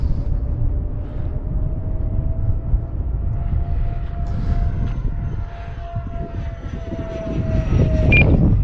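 Continuous loud MiG-29 engine drone in a flight video game, with a steady whining tone, rumbling throughout and swelling slightly near the end.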